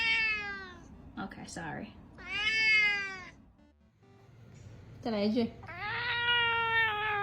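A pet cat meows repeatedly in a home, drawn-out demanding cries in several bursts close to the listener, with a person talking to it in between.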